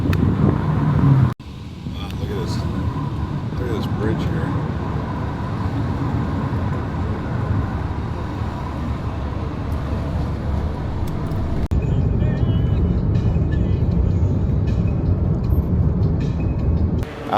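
A rental car drives along a road toward Sevilla, producing a steady low engine and tyre rumble with road noise throughout, heard from inside the cabin, with a brief thump near the start.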